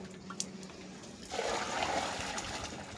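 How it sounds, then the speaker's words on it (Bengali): Water poured onto a green fertilizer mixture in a rooftop garden, a soft trickle that swells into a steady, fuller gushing splash partway through. "এই মিশ্রণটির উপর আরও 10 লিটার জল দেওয়া হলো।"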